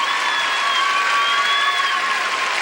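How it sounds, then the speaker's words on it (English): Adoring crowd at a 2001 figure skating event in Paris applauding steadily, a dense, loud wash of clapping with no talk, sustained evenly throughout. "It's an adoring crowd here in Paris, though."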